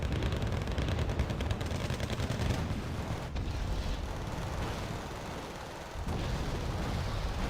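M270 MLRS rocket artillery strikes in Wargame Red Dragon, a dense rapid barrage of overlapping blasts and crackling impacts, loud and continuous, thinning briefly before a final burst resumes.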